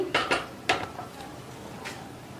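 Cooked spinach dal being mashed in a pot, with a few sharp metallic clanks of a utensil against the pot near the start and one more later, over quiet background.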